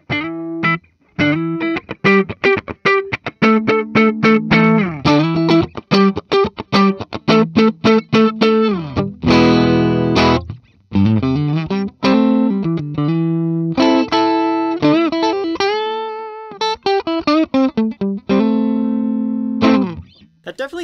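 A 2023 Gibson Les Paul Modern Supreme electric guitar played on its coil-tap pickup setting, ringing chords and single notes with a slightly thinned tone, loud and close, with strummed passages and sustained notes.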